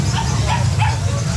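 A dog at a pet market gives a few short barks and yips over a steady crowd murmur and nearby chatter, fairly close and moderately loud.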